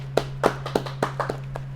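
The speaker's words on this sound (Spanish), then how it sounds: "pero antes un fuerte aplauso" A handful of sparse, uneven claps welcoming a guest onto a Spanish-language podcast, roughly eight separate hand strikes over a steady background hum.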